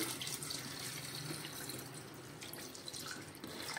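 Heated water is poured from a vessel into a pot of cooked mutton trotters for a spicy homestyle paya soup, making a steady, continuous splashing gush for several seconds with no talking.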